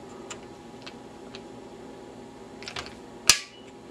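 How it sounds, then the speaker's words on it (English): A torque wrench clicks once, sharp and close, as it reaches 25 inch-pounds while a Norinco AK-47 Hunter rifle is being converted to a Galil-style clone, with a few faint ticks and light handling noises before it. "I'm just going to start torquing it. Once again to 25 inch-pounds."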